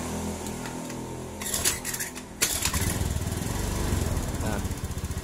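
A Honda Beat scooter is kick-started with its ignition switched on. Scattered mechanical rattling gives way about midway to a steady, buzzing small-engine idle that keeps running to the end, close and fairly loud.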